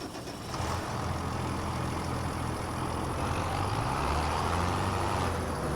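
A tractor engine in Farming Simulator 25 runs at a steady low rumble. The hum picks up slightly near the end, with no voices over it.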